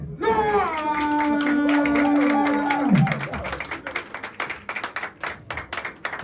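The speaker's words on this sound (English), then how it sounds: "A round of applause to, of course, the man, Ramsey." Crowd applause and cheering greeting Ramsey at a podium press event, a sustained voice at first, then scattered loud clapping from a nearby audience.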